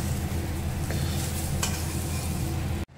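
Browned broccoli fries in a wok and is stirred, giving a close, steady sizzle with occasional scraping strokes before a sudden stop.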